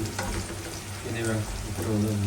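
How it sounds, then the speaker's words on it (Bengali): Onions frying in a pan, a dense close sizzle under a voice speaking throughout, with occasional clinks of a stirring utensil. "পেঁয়াজ ভাজা হয়ে গেছে এখন"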